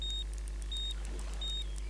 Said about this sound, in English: There you go, you can see the bite alarm flashing